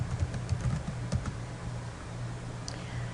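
Someone types a file name on a computer keyboard, and the keys click fast and close in quick uneven bursts, loudest in the first second and then tapering off, over a low steady hum.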